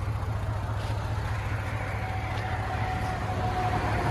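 A Hyundai Genesis engine idles with a steady, low, even rumble, close and unbroken, with no voices over it.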